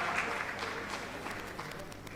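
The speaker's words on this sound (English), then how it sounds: "A big round of applause" A hall audience at a law school valedictory function applauds prize winners, a brief, fairly faint wash of many hands clapping at a distance.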